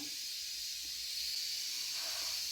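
Food chopper grinding dried stale bread into breadcrumbs, a steady loud whirring hiss with no break, rising slightly toward the end.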